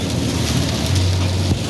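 Steady rain drumming on a moving car during a drive, a dense, loud, even hiss with a low rumble beneath and a faint sustained hum near the end.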